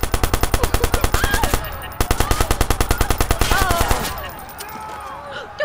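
Rapid automatic bursts from a Tommy gun in the video game Watch Dogs, loud and close, in two long rattling volleys with brief scattered shots trailing off, over game ambience.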